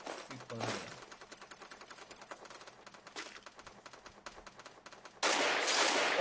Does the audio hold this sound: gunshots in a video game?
yes